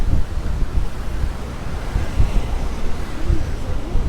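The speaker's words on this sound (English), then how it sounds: "It's probably just because it's too windy. Look at that crazy sea." Rough waves surge and crash continuously while strong wind buffets the microphone with a heavy, roaring rumble throughout, on the sea at Palmanova, Mallorca.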